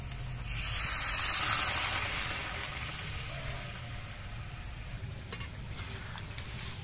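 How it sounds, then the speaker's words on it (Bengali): Hot water poured into a pan of sautéed potatoes and spices for aloo dum, a loud rushing hiss and sizzle swelling early then settling into a softer steady bubbling, close and without talk. "আলু দিয়ে আর মশলা দিয়ে 5 মিনিট কষানোর পর আমি গরম জল দিয়ে ঝোল দিয়ে"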